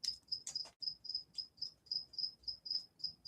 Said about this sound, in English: the crickets are starting to chirp